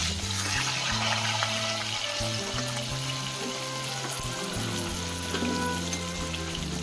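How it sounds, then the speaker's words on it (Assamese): Cut potato pieces fry in oil left from frying fish, a loud, steady crackling sizzle close by, with a low humming tone and occasional stirring underneath. "যিখিনি মায়ে এতিয়া ভাজিলে মাছৰ তেলত, তাতে আপোনাৰ আলুখিনি বহাই দিলে"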